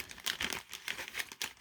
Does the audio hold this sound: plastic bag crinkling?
yes